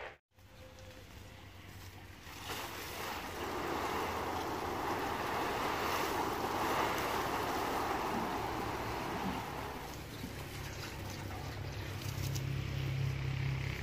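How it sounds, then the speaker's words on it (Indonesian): Water sprays over a calathea lutea plant and its leaves: a steady, broad hiss that swells after a couple of seconds, holds for several seconds, then carries on a little softer, with no talking. "penyiramannya harus sama daunnya ya, disiram biar enggak rontok dulu"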